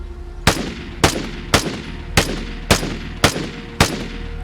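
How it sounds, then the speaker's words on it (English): A gun in the video game Vigor fires seven evenly spaced single shots, each a sharp loud crack with a short decaying tail, about half a second apart. "let me go ahead and shoot a few times standing up in a single fire"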